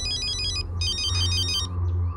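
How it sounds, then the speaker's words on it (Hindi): An incoming call sets a phone ringing: an electronic ringtone plays in two repeating melodic bursts with a short gap between them, loud and close. "प्रियंका के डैडी का फोन आ रहा है।"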